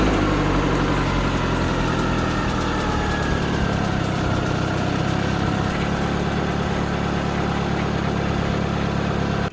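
A 1992-1996 Toyota Camry engine idles steadily with a freshly replaced exhaust pipe and a slight exhaust leak at the manifold joint, a continuous low rumble held at even loudness throughout, with no talk.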